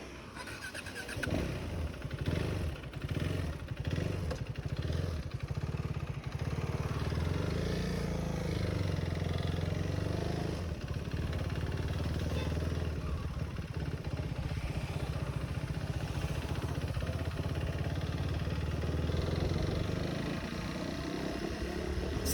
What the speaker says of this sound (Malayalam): ഇന്ന് നമ്മുടെ കൂടെയുള്ളത് first gen BS3 KTM Duke 390 ആണ്. മികച്ചൊരു സ്ട്രീറ്റ് നേക്കഡ് ബൈക്ക്.